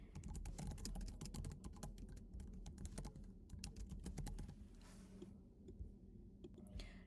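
Rapid typing on a computer keyboard: quiet, close-up clicks in uneven bursts with brief pauses, over a soft background hiss.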